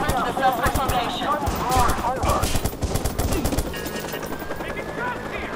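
Rapid automatic gunfire in the Watch Dogs video game: dense, loud bursts of machine-gun shots rattle continuously, with voices shouting over the shooting.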